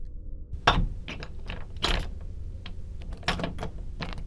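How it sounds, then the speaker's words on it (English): A key works a door lock indoors: a series of sharp metallic clicks and ratcheting clunks, some louder than others, spread across a few seconds with quiet gaps between them. "Then he heard the worst sound of all, a key turning in his lock."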